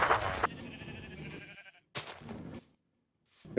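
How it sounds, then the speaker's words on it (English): Sheep in the video game Minecraft bleat a few times, several short wavering calls with brief gaps of silence between them, fairly close. "So now we have to figure out exactly how to get the sheep from up there dropped down."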